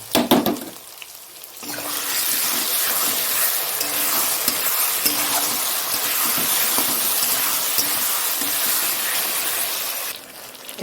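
Spices, tomato, ginger and garlic paste and green chilli being stirred and fried in hot oil for a fish-head cabbage dish, giving a loud, steady sizzle with scraping stirs that runs unbroken after a brief quieter start.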